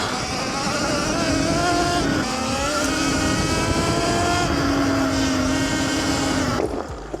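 Extreme Wheel ES 88V electric dirt bike accelerating off road, a loud rising electric motor whine climbing in pitch, dipping briefly and surging again before cutting off near the end, close by.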